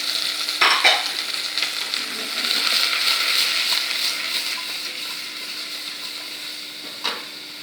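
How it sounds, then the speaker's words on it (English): Spring onion fries in hot oil in a pan for a potato-stuffed dish, a close, continuous sizzle broken by a few sharp scrapes and knocks of stirring, with no voices. "Just let these saute"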